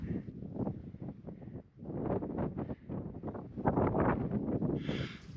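Steady wind gusting across a high exposed ridge on Longs Peak near Chasm Lake, a continuous loud rushing roar buffeting the microphone with shifting surges and brief lulls throughout.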